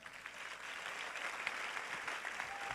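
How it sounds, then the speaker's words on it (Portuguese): Faint, distant applause from a church audience, a soft continuous patter of many hands clapping for a few seconds at low level. "Agora você pode aplaudir a Jesus."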